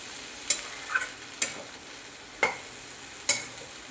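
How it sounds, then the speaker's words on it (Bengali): Ginger-garlic paste with green chillies fries in fish oil under a soft, constant sizzle, while a spatula scrapes and clacks against the pan four or five times at uneven intervals. "যে আদা রসুন বাটাটা দিয়েছি ওকে জিনিসটাকে ভাজা ভাজা করতে হবে যাতে গন্ধটা চলে যায়"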